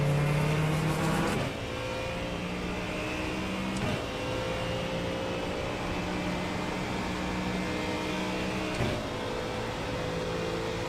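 Engine of a Ford Mustang GT3 race car heard from onboard, a steady loud drone with a few gear shifts, holding a sustained tone through the run.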